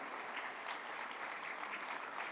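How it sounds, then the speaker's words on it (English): An audience in a hall at a National Science Day celebration applauds as the Minister of Science and Technology walks to the dais, steady dense clapping, soft and somewhat distant, continuing evenly throughout. "A warm round of applause as he makes his way into the hall on the dais."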